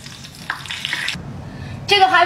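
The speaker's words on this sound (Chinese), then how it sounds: "现场炸一个大豆虫" Soybean worms, insect larvae caught from a vegetable garden, frying in bubbling hot oil, a close crackling sizzle that fades briefly and then flares up loudly again near the end.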